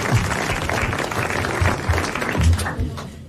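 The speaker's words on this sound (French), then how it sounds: "Et vous applaudissez Monsieur Nicolas Jacques de Reims." A dense wash of applause from a television studio audience, continuous and fairly loud, thinning out toward the end.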